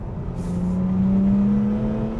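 Supercharged BMW E46 M3 engine running steadily at one sustained pitch with a strong, smooth mechanical drone and a slight whine, close and loud with no talking.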